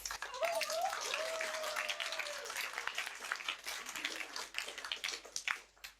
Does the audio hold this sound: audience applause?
yes